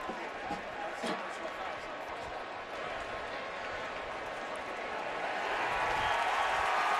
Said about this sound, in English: You hear the cheer as they show the replay on the